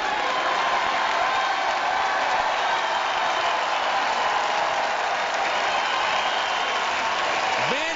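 A baseball crowd roars and cheers steadily and loudly through the seventh inning of a minor-league game, Vancouver against Boise, as a strikeout lifts the home side to a late lead, with a brief rising whistle near the end.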